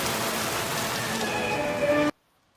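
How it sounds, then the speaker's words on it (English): Hailstorm in Leadville, a loud dense steady patter of hail striking surfaces that cuts off abruptly near the end, with no voices. "Oh, Hailstorm in Leadville."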